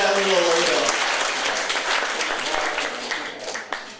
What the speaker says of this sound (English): we should applaud the Little Village people